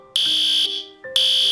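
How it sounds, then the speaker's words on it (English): A shrill, piercing school fire drill alarm blares in two loud pulses with a short gap between, close and harsh. "that damn fire drill alarm hits at 11 in the morning."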